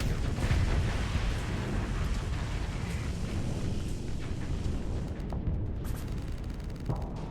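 Missiles exploding in a space combat video game, a dense continuous rumble of blasts and booms, loud and steady throughout with brief sharper pops near the end.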